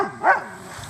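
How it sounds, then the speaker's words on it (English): A dog gives a single sharp bark at moderate distance, a short burst rising out of quiet background with nothing else around it. "we have a neighbor dog now, and my dog's going nuts"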